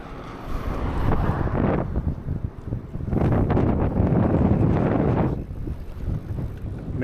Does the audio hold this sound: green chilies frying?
no